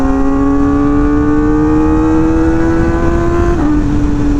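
A Kawasaki ZX4RR sport motorcycle screams loudly as its revs climb steadily, then a quick clutchless upshift briefly drops the pitch before the engine keeps pulling, heard from on the bike.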